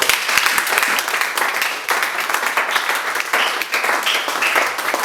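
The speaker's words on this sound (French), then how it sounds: "Est-ce qu'on peut acclamer pour la blague?" A church congregation breaks into dense, sustained applause and clapping that fills the room for several seconds, loud and continuous with slight swells and no talk over it.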